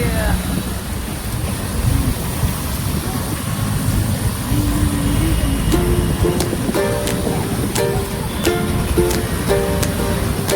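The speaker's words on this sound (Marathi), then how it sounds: "चालू झाली आपली गाडी." A family car rides along at night on the way to dinner, giving a steady broad road rumble with light intermittent ticking clicks and no voices.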